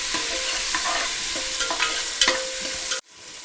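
Tomato frying in a hot pan with a steady broadband sizzle, broken by several scraping stirs of a spoon, before the sound cuts off abruptly near the end; no talking.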